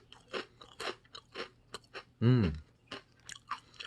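Samyang black sugar Jjanggu snacks are crunched and chewed up close in a string of short, crisp bites. A brief voiced sound cuts in partway through.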